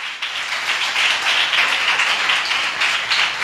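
A church congregation applauds during a worship service, producing a continuous, dense wash of clapping that holds at an even level for several seconds with no voices on top.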